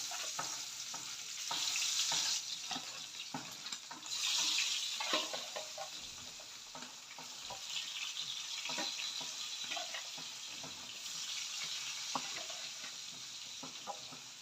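Fish pieces coated with salt, chili and turmeric frying in hot oil, with a dense, continuous crackling sizzle that swells in bursts, close and steady throughout.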